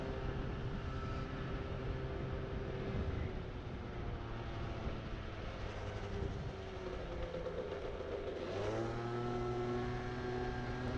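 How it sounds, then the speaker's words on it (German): A motorcycle engine warms up with a low, steady rumble, its pitch shifting slightly as the revs rise and fall, faint and continuous throughout. "also erstmal den Motor schön warm fahren"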